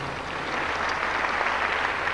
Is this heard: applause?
yes